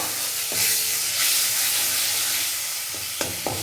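Bengali spice paste frying in oil for a fish curry sizzles and hisses steadily up close, with a few sharp spatula knocks against the pan toward the end.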